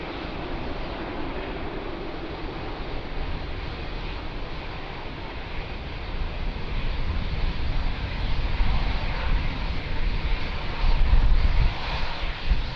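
A Ryanair airliner takes off at Lisbon Airport, its engine roar building steadily and swelling louder toward the end over a windy, rushing background, with no voices.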